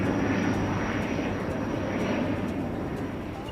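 An ATR turboprop airliner at Christchurch Airport drones steadily with a broadband engine roar, holding at a fairly constant level throughout with no voices.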